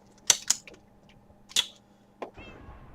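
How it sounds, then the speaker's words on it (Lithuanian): A game cat meows in short, bright bursts during a Minecraft Block Party match: two quick calls, a pause, a third louder one, then a fainter click over quiet background. "Kas per miau?"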